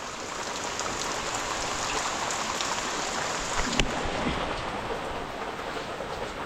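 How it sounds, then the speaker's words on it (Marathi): Steady, dense rain falling on surfaces around a Konkan village house, a constant hissing patter with no pauses and a brief knock partway through. "रविवारचा दिवस पावसाचा दिवस मस्त पाऊस पडतो आहे"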